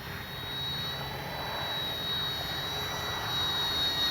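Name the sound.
FMS Cessna Skylane 182 RC plane engine and propeller flying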